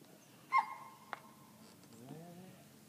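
A border collie gives a short yelp followed by faint whimpering and a brief whine, quiet and close by, with no talking.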